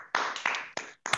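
Participants in an online Toastmasters club meeting clap to welcome guests: four short, separate bursts of clapping coming through unmuted microphones, each cut off abruptly by silent gaps.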